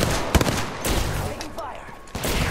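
Gunfire in the game Apex Legends, a loud fusillade of rapid cracking shots and bursts that runs almost the whole time.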